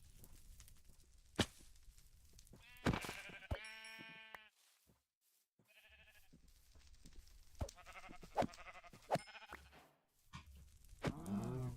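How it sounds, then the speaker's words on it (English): Sheep in the Minecraft video game bleat several times in short, wavering bursts, with soft footsteps and game sounds between calls and a brief quiet gap near the middle. "Oh, sheep. Nice."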